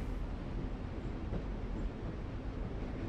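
A train rumbles along in The Walking Dead game, a continuous low broadband roar of rolling wheels and carriages that stays steady and fairly close throughout, with no talking.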